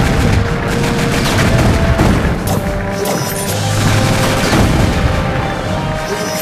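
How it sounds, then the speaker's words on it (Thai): Bomb explosions in the Crazy Chicken video game, a loud continuous barrage of booms and crashes layered over game sound. "เราต้องยิงระเบิด เพื่อให้มันระเบิดใส่นั่นนะผม"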